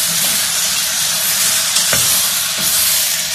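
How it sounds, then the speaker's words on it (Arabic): Vegetables with minced garlic stir-frying in a pan, a loud, steady hiss and sizzle with occasional clatter from stirring, close and continuous with no talking. "ببدأ بقى أشوح لغاية الخضار بتاعي ما كل الخضار ياخد يد مع بعضه يبدأ يتبل مع بعض"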